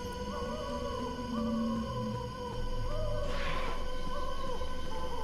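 A human voice imitates a dog's long, wavering howl during Five Nights at Freddy's gameplay, holding drawn-out tones over quiet, steady game ambience.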